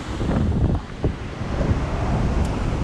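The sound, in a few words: ocean waves breaking close by on Maui coast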